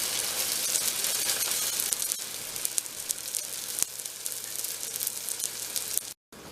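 A green onion cake sizzles steadily in a hot frying pan after being flipped, a loud, close, continuous crackling hiss with a few brief clicks and no talk.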